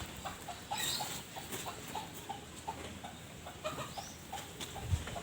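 Soft, scattered clucking from chickens close by, a few short calls spread out over a quiet, faintly noisy background.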